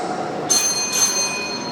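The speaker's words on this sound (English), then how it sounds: "A warning bell will be given at the end of 4 minutes like this." A warning bell at a school debate during a raising-day celebration rings twice in quick succession, bright metallic tones with ringing overtones that sustain and fade, heard close and fairly loud over light room noise.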